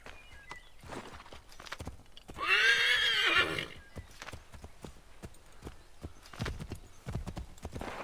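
A horse in Assassin's Creed III, with soft hoof steps clopping, then a loud, close whinny lasting about a second, followed by more scattered hoof sounds.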